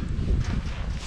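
Cold wind buffeting the microphone on Mont Vial, a short burst of low rumbling gusts, close and fairly loud, with no voices.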